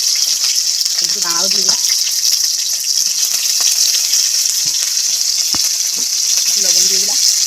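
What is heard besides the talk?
cut crab sizzling as it is added to hot oil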